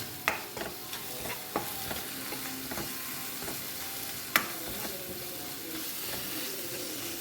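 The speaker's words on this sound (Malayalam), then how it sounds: "ഇനി ഉള്ളിയുമായിട്ട് നമുക്ക് മിക്സ് ചെയ്യാം." A spoon scrapes and stirs roasted tomato and small onions in a hot frying pan for a prawn roast, with a steady sizzle and occasional sharp clinks against the pan.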